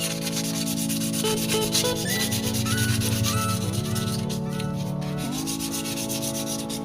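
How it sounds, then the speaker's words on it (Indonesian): A Mikuni carburetor from a Yamaha Alpha is sanded by hand ahead of polishing, giving a continuous close rasping rub in repeated back-and-forth strokes, with a few rising squeaky tones as the paper drags across the metal. "Ini pengamplasannya harus merata ini guys, biar hasilnya ini maksimal. Ini harus sampai halus."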